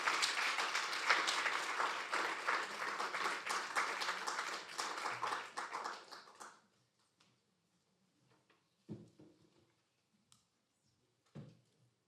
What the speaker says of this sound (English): And can we please have a round of applause?